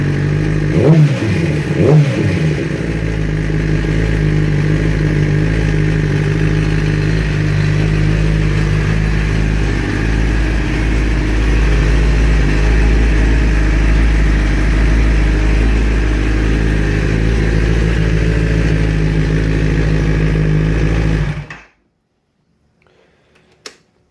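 A flashed 2012 Kawasaki ZX10R sportbike engine idles loud and steady, with a few quick throttle blips at the start, then cuts off abruptly near the end into silence.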